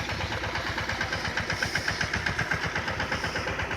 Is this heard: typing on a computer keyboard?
no